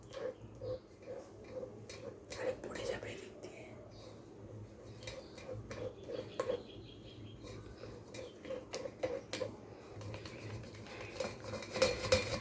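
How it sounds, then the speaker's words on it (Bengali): A metal spatula stirs and scrapes soft palm fruit puree out of a bowl, giving quiet, irregular clinks and scrapes against the dish, with faint voices in the background. "এবারে এইভাবে একটা খুন্তি দিয়ে নেড়ে নেড়ে পিউরিটাকে বের করে নেব।"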